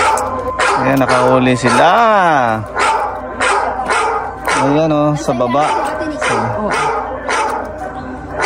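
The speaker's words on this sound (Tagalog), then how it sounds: "May aso na katahol." A dog barks and yips in bursts near a fishing spot, mixed with someone talking over it.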